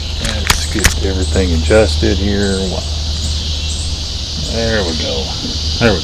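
Cicadas buzz steadily outdoors in a constant high-pitched drone throughout, under someone speaking close to the microphone.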